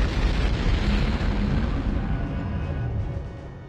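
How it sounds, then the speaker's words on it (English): A satchel charge blast in Turok 2 booms into a long, heavy rumbling roar that stays loud and gradually fades toward the end, with no voices. "everything's exploding behind us and it will kill us"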